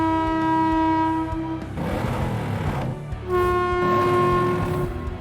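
A train in the video game Kijutsu Rider sounds a loud sustained horn twice, with a rumbling burst of rail noise between the blasts.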